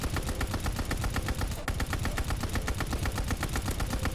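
Ball turret machine gun in Call of Duty Vanguard firing a long, loud, unbroken stream of rapid evenly spaced shots, close and steady, with no talk over it.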